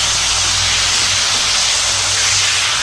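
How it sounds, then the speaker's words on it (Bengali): Spices and onion greens sizzle loudly and steadily in a hot pan as masala is cooked for a pond-fish curry, a dense continuous hiss close by with no voices. "মা এখন মশলাটা কষছে,"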